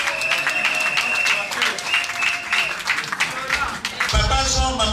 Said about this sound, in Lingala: Est-ce qu'on peut l'acclamer s'il vous plaît?